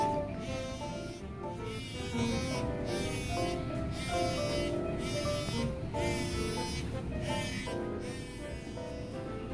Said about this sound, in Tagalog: Masasabi ko sa contouring machine, napi-feel ko yung nag-work yung machine.